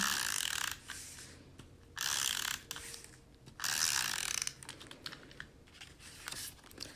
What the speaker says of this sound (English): I'm going to go ahead and just stick that down on my cardstock and our tape runner.